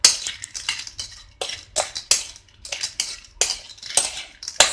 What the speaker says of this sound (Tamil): இப்போ இதை வந்துட்டு மிக்ஸ் பண்ணிடலாம்.